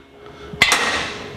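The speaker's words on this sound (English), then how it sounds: "you slide the centering punch into the hole and wrap it with a hammer" A single sharp metallic strike as a hammer raps a centering punch seated in a hole in a steel plate, made while fabricating a transmission mount for a 1949 Chevrolet gasser, ringing briefly in a quiet shop.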